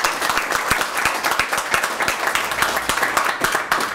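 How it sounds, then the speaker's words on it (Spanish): An audience claps for a supervisor at a gathering, a dense steady round of applause that is close and fairly loud. "les voy a pedir a todos ustedes que le demos un fuerte aplauso a mi supervisora"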